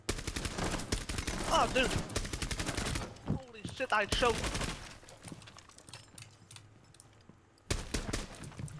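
Gunfire in the video game Rainbow Six Siege, sustained rapid automatic bursts that stop and restart, loud and close, with a player's excited voice over the shooting and quieter stretches between volleys.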